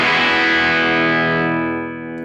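Electric guitar through a bright ToneX boutique overdrive preset plays a sustained, loud distorted chord that rings out alone and slowly fades.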